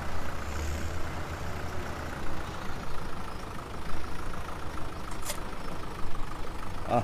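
A farm tractor engine idles steadily in the Limousin countryside, a low continuous rumble with slight fluctuations, close and fairly loud, with no talk over it.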